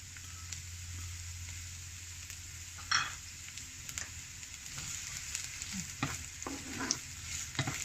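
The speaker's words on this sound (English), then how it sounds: "Heat up some oil in a pan and add half a diced red onion and cook until soft." Half a diced red onion fries in hot oil in a pan for a roast chicken stuffing, a steady close sizzle with occasional stirring scrapes and clicks over a low hum.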